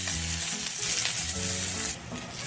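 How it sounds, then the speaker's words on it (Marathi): Field bean pods sizzle in oil in a kadhai while being roasted for a traditional mixed vegetable dish, a steady close frying hiss with some stirring, briefly softening near the end. "आता त्याच कढईमध्ये घेवड्याचे शेंग घातले त्याला असं थोडंसं तेल घालून छान असं भाजून घेऊया"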